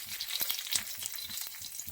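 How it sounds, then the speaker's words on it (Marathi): Curry leaves crackle and sizzle steadily in hot oil for a tempering, a close, busy frying sound with quick pops. "नंतर हा कढीपत्ता कढीपत्ता फोडणीला टाकलाय आहे"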